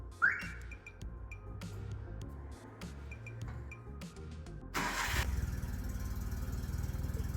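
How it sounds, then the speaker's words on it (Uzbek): A few faint clicks and chimes, then a car engine cranks and catches, settling into a steady idle that continues to the end. "Endi avtomobilimizni hozir yurgizib ko'ramiz do'stlar"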